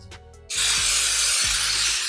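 Cooking spray hisses into an 8x8 baking dish for a casserole, one sustained close spray of about a second and a half that follows a few soft knocks.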